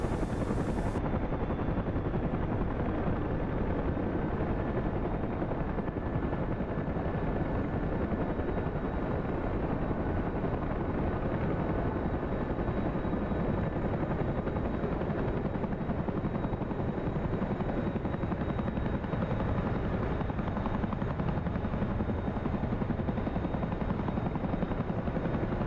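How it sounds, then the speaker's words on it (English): A Chinook helicopter rolls out in the combat flight simulator DCS World, its dense rotor and turbine roar continuous and loud, filling the scene steadily with no talk. "AI Chinook is rolling out."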